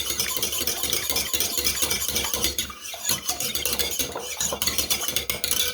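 Rhubarb cake ingredients being stirred and combined in a bowl, a steady, close rhythm of utensil scrapes and clinks against the bowl's sides, with no speech.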